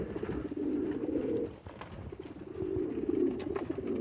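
Pigeons coo in a loft, two long, throaty rolling phrases close to the microphone separated by a brief pause, with faint rustling around them and no talking.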